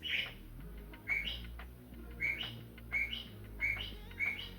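A bird clock chimes one o'clock in a home kitchen with recorded bird song: a series of bright, repeated chirps spaced roughly a second apart over a low steady background hum.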